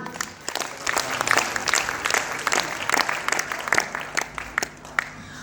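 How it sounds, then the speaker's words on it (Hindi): A seated audience at a gathering claps loudly and continuously, dense overlapping hand claps filling the whole stretch without a break. "यस, जोरदार ताली।"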